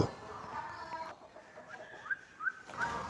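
Small pet chickens make soft, brief peeping clucks and chirps, close by and fairly quiet, over faint background noise.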